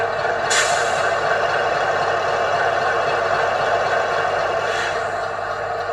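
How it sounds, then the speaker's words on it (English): A Class 60 diesel locomotive engine drops back to idle, giving a steady droning rumble with a constant hum. Short hissy bursts come near the start and again near the end. "And then back down to our idle."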